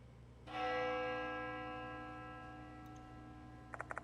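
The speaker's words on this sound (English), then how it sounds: "The sound of a bell echoes in my ears." In the horror video game Spirit Hunter: Death Mark II, a single bell strikes once with a clear ringing tone that hangs and fades slowly over a low background hum, followed by a few faint ticks and no voices.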